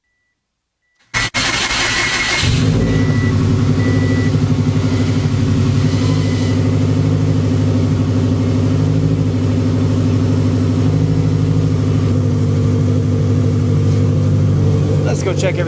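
A 500 HP Subaru WRX engine cranks and fires after a moment of silence, then settles into a loud, steady, rumbling run close by that holds for the rest of the stretch.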